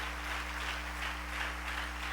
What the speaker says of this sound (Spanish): Denle ese aplauso a Dios.